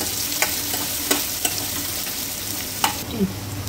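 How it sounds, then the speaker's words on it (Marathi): Chopped onion frying with cumin seeds in a pan, a continuous close sizzle broken by several sharp spatula scrapes and taps. "कांदा आधी फ्राय करायचा आहे"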